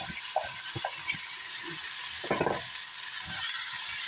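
Onion, garlic and vegetables sizzle steadily in the pan used to fry tofu, an even hiss broken by a few stirring scrapes and taps close by.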